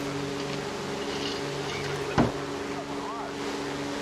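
A P-63 plane engine from the video game War Thunder drones steadily with a sharp thump or pop midway, heard under a player talking.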